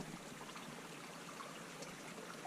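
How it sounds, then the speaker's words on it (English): A small creek trickles along a sandy trail in the mountains between Mammoth and Bishop, California, a soft steady wash of flowing water heard alone. "you got this creek trickling"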